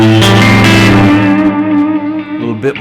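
Electric guitar played through an echo effect modeled on an old Tel-Ray oil can echo, a loud sustained chord ringing with thick, spacey repeats that trail off and swell again.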